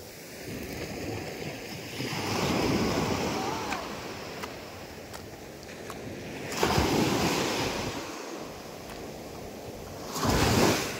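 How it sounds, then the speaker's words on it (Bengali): Ocean waves break in repeated surges on the shore at Aqah beach in Fujairah on a morning of big waves, with wind noise rising and falling between the swells. "ঢেউ তো অনেক বড়ই আছে আজকে সকালবেলা"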